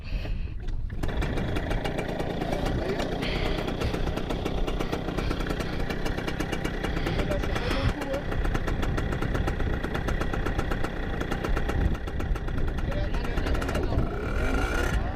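Motorcycle engine running loud and close, with a steady mid-pitched idle that holds throughout, a busy, broadband rumble with occasional revving swells and speech mixed in beneath it.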